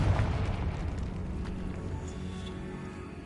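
A Confringo fire-spell blast in Hogwarts Legacy on PS5 goes off as a loud, booming explosion, with a dense rumbling roar that slowly fades over a few seconds and no voices present.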